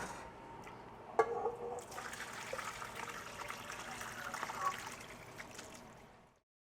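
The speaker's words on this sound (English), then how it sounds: "we're going to go ahead and pour that into the colander." Turkey stock pours steadily and splashes into a colander, a soft continuous trickling that lasts several seconds before stopping.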